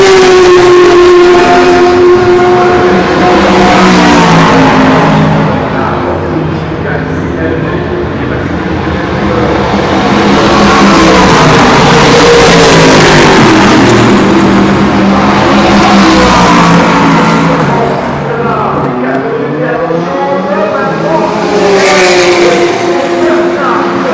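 Race cars lapping Le Mans during 24 Hours qualifying roar past one after another, engines swelling and fading in repeated loud pass-bys with rising and falling pitch, under steady commentary.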